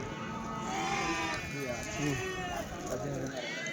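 Rams bleat repeatedly at the busy Kadiri sheep and goat market, several wavering calls rising over a crowd murmur while people talk nearby.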